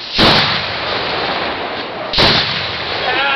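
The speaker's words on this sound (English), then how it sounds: "21 gun salute." Two homemade cannons fire in a gun salute, each a loud, sharp blast followed by a long rumbling, hissing decay, the second coming about two seconds after the first.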